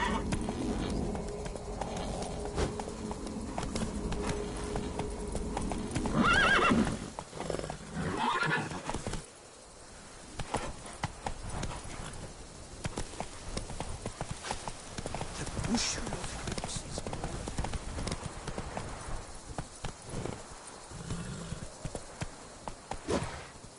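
A horse gallops and whinnies in The Witcher 3, with hoofbeats clip-clopping under a voice urging it on, birds chirping faintly in the game world.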